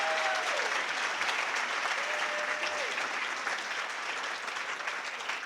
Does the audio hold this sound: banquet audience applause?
yes